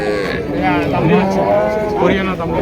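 A Deshi cow and her Haryana-Jersey cross calf moo in long, drawn-out calls, loud and close, with a second lower bellow following, amid faint background noise at a cattle market.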